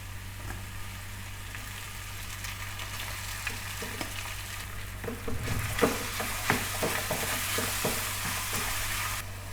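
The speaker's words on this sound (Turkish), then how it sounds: "çökeleğimi de biraz kavuracağım" Çökelek cheese sautés in a pan with onions and pepper paste, a steady frying sizzle broken by repeated spatula scrapes and stirring knocks that grow louder and busier toward the middle.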